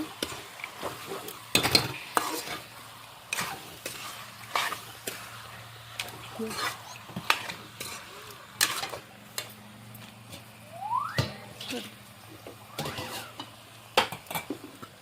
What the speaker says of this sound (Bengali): এখন আমি ভালো করে লাড়াচাড়া করে ঢাইকা দিব